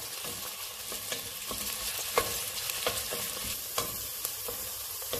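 A soffritto with a sprig of rosemary and a bay leaf sizzles steadily in a pan, with close stirring clicks and scrapes dotted through the continuous frying hiss, no voices.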